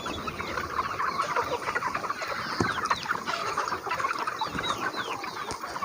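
Desi free-range chickens cluck steadily on a farm on a foggy morning, a dense chorus of overlapping hen calls with occasional sharper squawks throughout.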